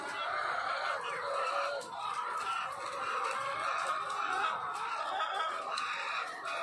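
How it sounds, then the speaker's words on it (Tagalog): A large, crowded flock of chickens clucks continuously on a farm, a dense overlapping chorus of many birds close by with no talking. "Sobrang dami ng manok."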